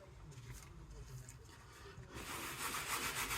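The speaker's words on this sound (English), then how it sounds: "just scrubbing in to the seat" Scrubbing on the upholstery of a BMW Z4 car seat, a steady close rubbing texture that grows louder and brighter in the second half, with no talk over it.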